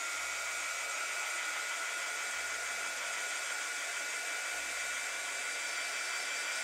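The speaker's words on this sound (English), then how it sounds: "All right, gonna dry this real quick." A hair dryer blows steadily on coloured pencil artwork, a loud continuous whoosh that holds level throughout with no talking.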